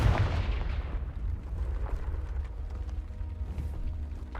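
Confringo fire spell blast in the game Hogwarts Legacy: a loud booming burst at the start that rumbles and fades into low, ongoing game ambience.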